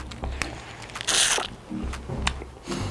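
Biting into and chewing Bakdal snow crab coated in its own roe and innards, with wet crunchy bites and smacking chews close up, including a loud crunchy burst in the middle.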